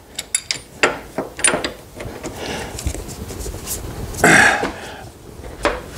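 A ratchet wrench clicks in short uneven bursts while working on the steering stem bearing of a Yamaha Raptor 700 ATV, close and fairly loud, with grunts and a throat-clearing sound among the metallic clatter.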